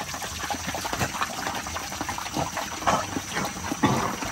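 Water splashes and gurgles steadily as it is poured for dogs outdoors in an unshaded yard, a continuous close liquid rush with small bubbling surges.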